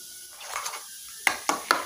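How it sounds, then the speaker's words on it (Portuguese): Spoon stirring mayonnaise into two mashed garlic cloves in a bowl, a soft wet smear followed by three crisp clicks of utensil against the bowl, close and clear. "Agora que eu já acrescentei as 6 colheres de maionese, eu misturo."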